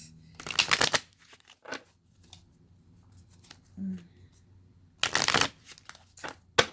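Tarot cards riffle-shuffled in two loud bursts with softer taps and shuffling in between, close up, with brief gaps of near silence.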